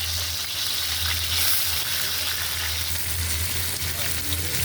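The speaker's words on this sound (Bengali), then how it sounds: "আমি এভাবে সম্পূর্ণ মুরগিগুলো ভাজিয়ে দিচ্ছি।" Chicken pieces fry in oil flavoured with a little kewra water for a roast, giving a steady, dense sizzle that holds evenly throughout with no talking.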